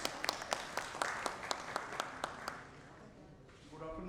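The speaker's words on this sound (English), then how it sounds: "A huge round of applause, please." Audience applause at a cybersecurity conference session in Kolkata: a few loud, evenly spaced claps over a soft wash of clapping that fades out, and a voice begins speaking at the end.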